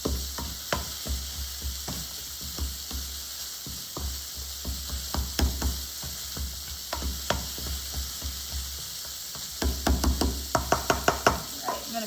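Potatoes being roughly mashed by hand with warm cream, giving a run of wet, squelching presses and scrapes at an uneven rhythm that quicken and grow louder toward the end, close and alone with no talk.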